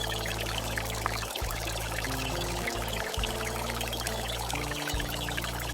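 Liquid pours slowly and steadily into a tiny pot during miniature cooking, a continuous close trickle with a few brief breaks in the flow.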